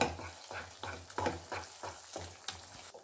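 Wheat halwa with ghee and cashews is stirred in a pan, giving a soft sizzle broken by rhythmic scraping strokes about every third of a second, quiet and close.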